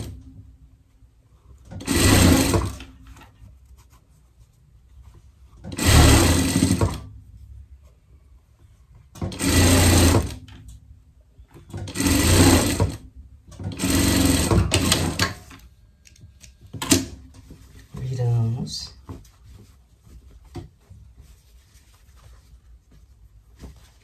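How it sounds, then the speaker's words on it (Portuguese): Sewing machine stitching a fox-pattern sweater in five short loud bursts of rapid whirring, separated by pauses, followed by a softer handling noise. "Costura, costura aqui."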